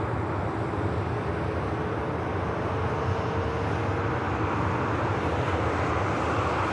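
A Boeing 787 Dreamliner passes with a dense, steady engine rumble and roar, fairly loud and unbroken throughout, with no speech over it.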